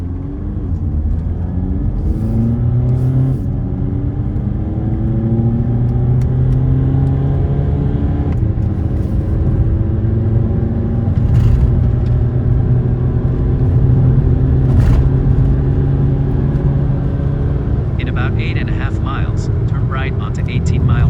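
A 2014 VW Passat TDI diesel with a fixed downpipe pulls hard onto a highway in sport mode from a standstill, its engine droning and climbing steadily in pitch through the gears for about twenty seconds, loud and close with an upshift near the end.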